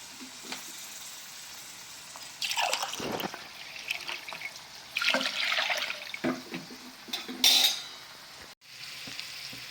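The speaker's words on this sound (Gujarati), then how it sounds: "બે ગ્લાસ પાણી એડ કરીશું।" Water splashes and pours in bursts into a pot of toor dal khichdi with peas and carrots, with sizzling and stirring sounds between the pours and a steady kitchen background.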